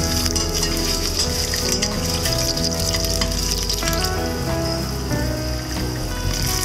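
Ginger slices and garlic sizzling in hot oil in a wok, a dense continuous crackling hiss at steady volume, close, with no talk.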